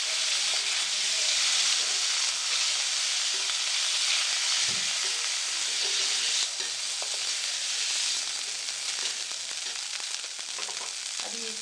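Paneer cubes fry in oil in a pan in a home kitchen. A steady, close sizzle and hiss runs throughout, with occasional soft clinks and scrapes from stirring.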